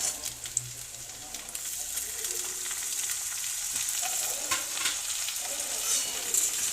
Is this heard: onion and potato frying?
yes